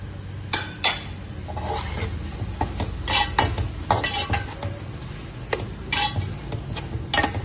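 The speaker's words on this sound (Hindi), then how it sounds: "अच्छे से अब दोनों चीज़ों को हमने भून लेना है।" Small cubes of boneless chicken and peas are stir-fried for Chinese fried rice, with a spatula scraping and clinking against the pan in irregular strokes over a steady low sizzle, close by.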